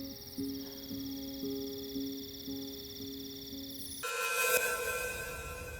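A telephone ringing with a repeated electronic ring pattern, several evenly spaced tones close and clear, then switching to a brighter, busier ringtone near the end, with no talking.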